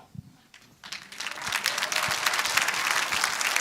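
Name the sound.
audience applause at a party appointment ceremony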